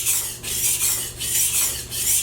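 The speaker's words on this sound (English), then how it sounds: "Going back and forth, we just want to slide the knife, applying more pressure when I'm going away from myself." Knife blade stroked back and forth on a sharpening stone while raising a burr, about five rhythmic gritty rasping strokes, close and steady with no talking.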